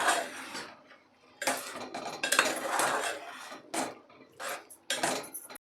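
A spoon scrapes and clinks against a metal pot while stirring khobra chicken masala with garam masala and coriander powder, in short, close bursts of clatter separated by brief pauses.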